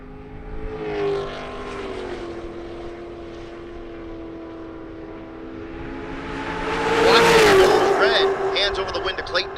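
A fifth-generation 2010 Chevrolet Camaro roars down a Kansas drag strip, engine droning steadily, then swelling loud and close as it passes, with an announcer talking over it.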